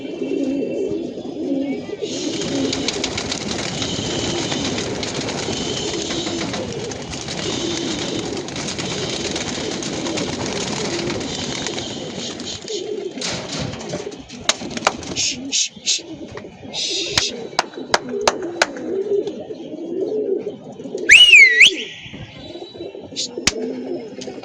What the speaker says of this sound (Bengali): কবুতরের বাচ্চাগুলো ছেড়ে উড়িয়ে দিলাম